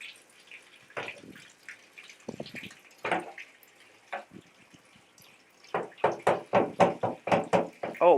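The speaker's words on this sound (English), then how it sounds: "I'm just going to give it a good wipe down with some soapy water, but you can see like the water coming out." Water runs and drips off a NOX vape being washed with soapy water in a bathroom sink, with irregular splashes and knocks early on, then a quick series of loud, close, rhythmic spattering bursts toward the end.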